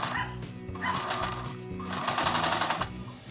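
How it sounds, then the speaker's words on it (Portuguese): A sewing machine with a guide presser foot stitches around a tablet bag, its needle chattering in rapid rhythmic runs that pause and restart, close and loud with no talk. "Vou passar a costura em toda a volta com aquele mesmo calcador com guia."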